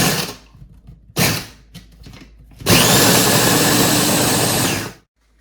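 A Ninja food processor pulses crackers into crust crumbs for a no-bake creamsicle cheesecake: two brief bursts come first, then one long, loud, steady whir that lasts about two seconds before it stops abruptly.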